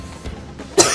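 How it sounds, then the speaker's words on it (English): A character in the Final Fantasy XIV video game coughs once, a short, sharp burst near the end after a quiet stretch. "I can't stop coughing."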